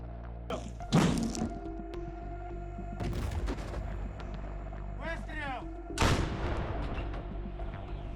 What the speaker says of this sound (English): the artillery hit the positions